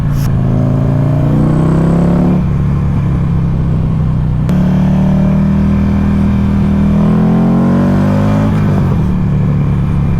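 A Buell XB9 motorcycle engine revs continuously on a motorway, loud and close, with the pitch climbing and dropping as the revs build and fall, then rising again under steady wind and road rumble.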